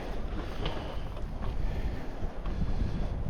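Wind blows steadily over a sailboat at sea on a November night near Pilsey Island, with a continuous rushing roar and faint water sounds and no pauses.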